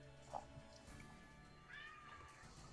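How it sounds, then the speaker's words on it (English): Cat meowing, a faint short meow followed by a longer whining call, quiet and distant beneath low background murmur, with no talking. "I heard a meow"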